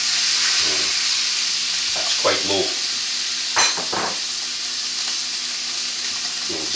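Sirloin steak sizzles steadily in butter in a pan, a constant close frying hiss with a few soft clinks and scrapes, while a voice speaks briefly over it.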